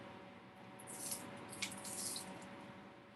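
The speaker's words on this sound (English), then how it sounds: "You hear the sizzling?" Vegetable oil sizzles in a wok, a faint, steady hiss with brief crackling bursts, heard close but quietly.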